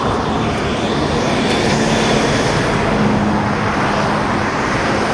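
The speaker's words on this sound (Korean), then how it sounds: "트레일러 한 대가 섞여 있었고," A trailer truck passing among road traffic, a broad, steady rushing roar of engine and tires that stays loud and close for several seconds with no talk.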